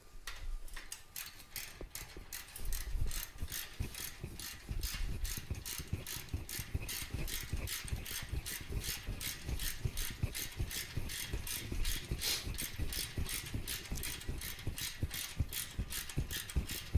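Ratchet wrench clicking in a steady, rapid rhythm throughout while tightening bolts on a Vance & Hines slip-on exhaust, close and fairly loud, with no talking.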